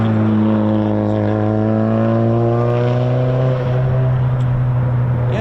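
F-35 fighter jets at RAF Lakenheath with the 48th Fighter Wing, a steady loud engine roar with a droning, slowly shifting tonal whine held throughout, no talk.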